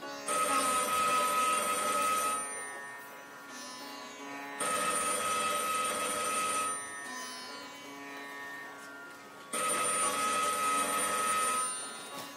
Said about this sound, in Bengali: অনেকক্ষণ ধরে ল্যান্ডফোনটা একটা ধাতব শব্দে বেজে চলেছে।